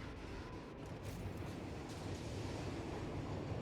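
Trains in the video game Satisfactory rumbling along a track below, a steady rolling clatter with faint rhythmic wheel clicks, moderately quiet and continuous without talk.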